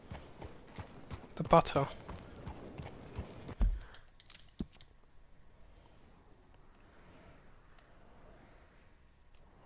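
Rhythmic hoof clops of a horse in Red Dead Redemption 2, heard briefly under someone talking, followed by quieter ambient game sounds.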